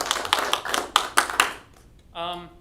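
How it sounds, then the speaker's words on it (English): Brief round of applause at a city council meeting in Gardner, a few sharp claps and taps over about a second and a half, fading out before a short tonal sound. "I want to give you a special thanks and a round of applause."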